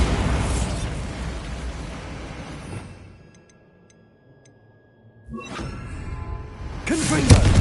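A Bombarda spell blast goes off in the video game Hogwarts Legacy with a loud rumbling burst, then a near-silent pause before a sharp crack and a second boom.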